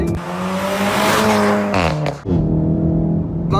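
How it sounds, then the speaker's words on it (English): A loud VW Golf R engine revs hard with a sharp gear-change break, crackling pops from the exhaust, then the engine roars on again. "it farts tremendously in between gear changes"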